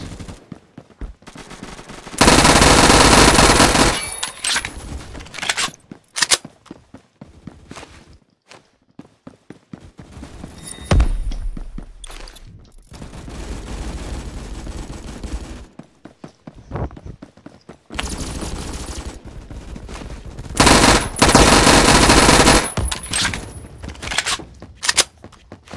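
Automatic MAC-10 gunfire in the Roblox shooter Phantom Forces, loud rapid bursts of shots repeating in several long strings with brief gaps and clattering game sounds between them.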